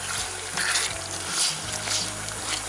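Onions added to salt cod frying in a pan, a steady loud sizzle and bubbling with small spatters across the whole moment.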